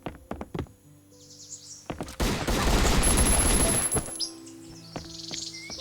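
Semi-automatic pistol fire in the survival game Last Island Survival: a few sharp separate shots, then a dense stretch of overlapping gunfire in a fight, then scattered pops again, with faint bird chirps in quiet gaps.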